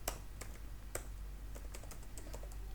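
Quiet, crisp clicks of a computer keyboard as code is typed, landing in uneven bursts of keystrokes with short pauses between them, close and alone.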